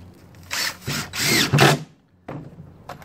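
Power drill driving screws to temporarily hold flexible trim on a DIY witch house build, heard as several short whirring bursts in quick succession, close and fairly loud, followed by a brief pause and another short burst.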